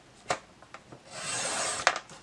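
Paper is trimmed for a DIY personal-size planner pocket folder: a few quiet clicks and taps, then a steady rasping slide of the trimmer blade across the sheet for about half a second, ending in a sharper snap. The sound is close-up, with no talking.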